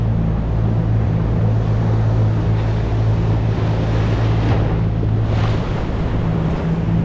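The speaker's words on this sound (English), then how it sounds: "a lot of white water in that here." White water waves break in shallow surf at a rocky beach bank, a constant loud wash and roar of water mixed with wind buffeting the microphone.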